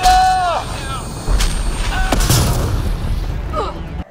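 Weapons fire in Mass Effect Andromeda, loud booming shots and blasts following a shouted voice, with sharp transients and rumble through the clip.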